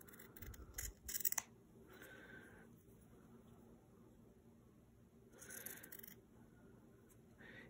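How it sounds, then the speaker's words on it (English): Scissors trim fabric in a faint, close, intermittent series of crisp snips, with quiet pauses between the bursts of cutting. "then you want to trim it to about a quarter inch away from your drawn line"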